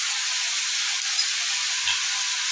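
Prawns frying in hot oil in a pan, a steady broad sizzling hiss running evenly throughout, close and moderately loud, with a few faint low knocks underneath.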